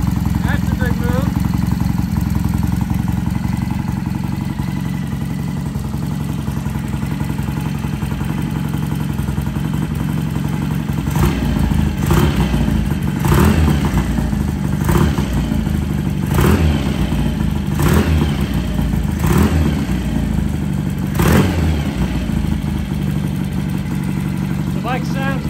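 A vintage British motorcycle engine runs at a steady, loud idle, then revs up in a series of sharp bursts before settling back to a rough, clattering idle.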